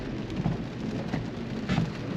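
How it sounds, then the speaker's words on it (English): Steady rain patters on the body and glass of an Infiniti Q50 Red Sport 400 during a drive, a dense continuous hiss with a low rumble beneath, fairly close and even, with no one talking. "All the rain and drizzles."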